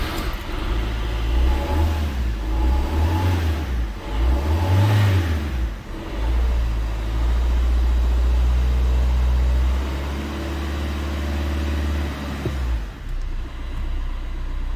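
A Fiat Punto 3 engine runs right after an injector seal repair, heard close and loud. It revs up and down in several swells and then settles into a steady idle rumble, with no talking.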